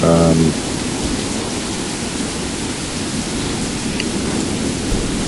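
Steady heavy rain and rumbling storm noise from a thunderstorm in Skyrim with the Supreme Aegis Weathers mod, a continuous loud wash running the whole time after a brief opening burst.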